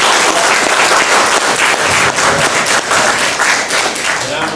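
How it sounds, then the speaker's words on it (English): Loud, dense applause from an audience at a lecture, steady clapping filling the whole span with no other sounds standing out. "let's give him a round of applause"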